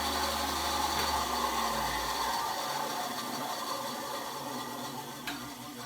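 An Einhell TC-SB 200/1 250 W band saw runs with a steady, even mechanical whir and faint blade rasp. Close, moderately loud and unchanging throughout, with no voices.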